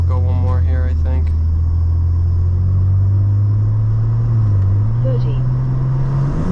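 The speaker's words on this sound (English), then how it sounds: "That's a fucking M2 with downpipes, exhaust, and a race chip." A BMW G87 M2 fitted with downpipes, a performance exhaust and a RaceChip tune accelerates hard. Its loud, close, rumbling engine note climbs steadily in pitch through a gear, with brief talk at the start.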